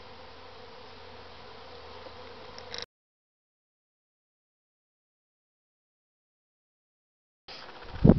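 Dense buzzing of many bees, steady and close, cut off by a long silence before the buzzing returns with some handling bumps.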